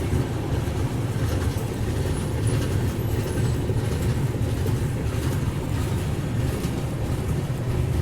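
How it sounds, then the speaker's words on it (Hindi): The Mandovi Express passenger train on the Mumbai to Goa route rumbles steadily, a loud continuous low roar of wheels and carriages on rails heard from aboard, with no talk. "वाह भाई, ये है मांडवी एक्सप्रेस।"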